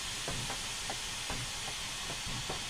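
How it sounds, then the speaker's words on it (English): Steam locomotive safety valves blow off in Train Simulator 2015 on an AT&N Consolidation, a loud continuous roaring hiss with soft rhythmic chuffing pulses beneath it and no talking. "I've just pulled away from it just to keep the noise down from the safeties that are going off."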